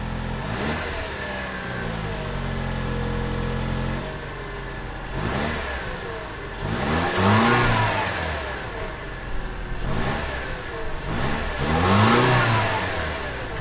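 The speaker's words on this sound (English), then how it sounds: "Most people will choose the 2-liter turbocharged 4-cylinder, which powers the NX 200T." A 2017 Lexus NX 200t's 2-liter turbocharged four-cylinder engine revs and accelerates, rising through the gears in repeated sweeps, with a steady drone between the pulls.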